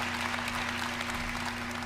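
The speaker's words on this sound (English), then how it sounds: "Pause for applause" Audience applause fills a large conference hall at Ubisoft's E3 2017 press event, a steady, moderately distant wash of clapping over a constant low electrical hum, with no talking.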